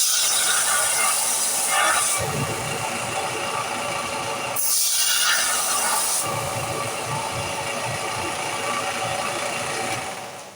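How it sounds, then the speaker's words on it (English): A power sander works a sweet cherry wood knife handle, giving a loud, continuous whirring grind with gritty rasping that surges in bursts as the wood is pressed against it, then eases off at the end. "let me hit this on the sander a little bit"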